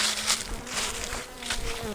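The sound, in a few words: honey bees buzzing on a honey super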